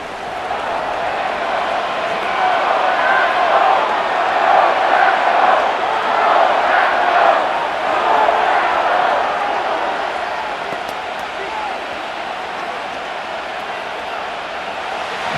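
A stadium crowd in the video game Madden NFL 25, Detroit Lions against Green Bay Packers, roars steadily, swells to a louder peak midway, then eases back to a constant murmur as a commentator talks over it.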